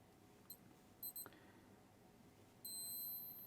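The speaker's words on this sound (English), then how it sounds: "Has a bunch of beeps there." A G-Shock GW-9010 Mudman digital watch gives a few short, faint electronic beeps, then a longer steady beeping tone near the end, all quiet and close against a hushed background.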